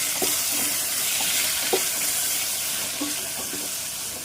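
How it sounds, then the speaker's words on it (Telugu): Okra, tomato, drumstick, green chillies and curry leaves frying in oil for sambar, a steady broadband sizzle throughout with a few soft stirring knocks scattered across it, close and moderately loud, no voices. "నేనైతే బెండకాయ, టమాటా, ములక్కాయ, అలాగే కొద్దిగా పచ్చిమిర్చిని వేసేసుకొని, అలాగే కొద్దిగా కరివేపాకు వేసేసుకుని 1 నిమిషం వీటిని ఫ్రై చేసుకోవాలి."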